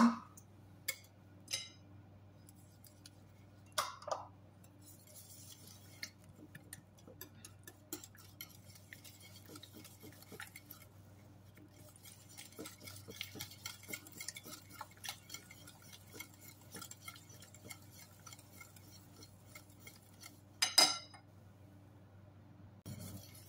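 Banana cake batter with butter stirred in a bowl: soft scraping and clinks of a utensil against the bowl, faint and intermittent, with a louder clink near the end.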